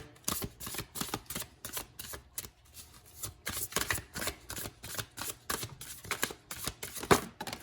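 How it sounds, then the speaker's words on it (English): Oracle cards shuffled by hand for a card pull, a close series of rapid riffling, flapping bursts in an uneven rhythm, repeated many times with brief pauses between. "So let's see if we can get a card pull."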